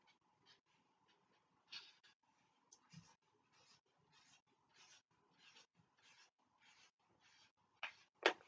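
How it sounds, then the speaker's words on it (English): Hand-drawn circles, nine in quick succession, sketched during a math lesson: a faint, rapid series of short scratchy pen strokes with brief pauses, louder toward the end. "I'm going to draw my 9 circles real fast."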